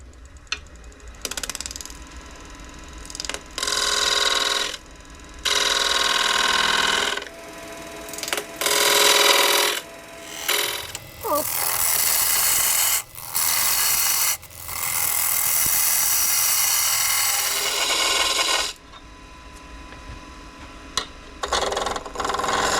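A wood lathe turns a spindle while a skew's point cuts a line into the wood, giving loud, harsh, broadband bursts of cutting noise. The bursts come in several long passes separated by short pauses, with no talk.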